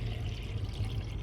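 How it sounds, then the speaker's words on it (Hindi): Water poured onto chopped papaya leaves, a steady close trickle with no talk over it. "अब मैं इसके अंदर डालूँगी पानी।"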